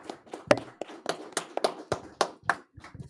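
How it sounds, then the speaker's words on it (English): Round of applause from a church congregation for Sister Trina, a short burst of several hands clapping close by in an uneven rhythm, with no talking over it. "I hope you don't mind giving Sister Trina another round of applause"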